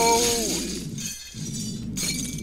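Glass shattering in the video game Happy Wheels: a loud crash opens with ringing tinkling shards, then trails off into scattered glassy debris, with a second burst of breakage near the end.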